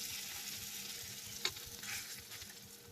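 A tortilla-stuffed omelette frying in a pan, with a soft steady sizzle and crackle at low volume and a single brief tap partway through.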